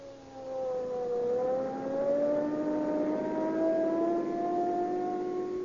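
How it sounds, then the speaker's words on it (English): Police car accelerating in an old radio drama, an engine note rising steadily in pitch as it speeds up, loud and sustained, with no voices. "Boy, I'll show you what police car performance means."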